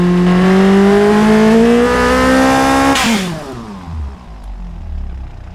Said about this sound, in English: Try and get it revving a bit higher.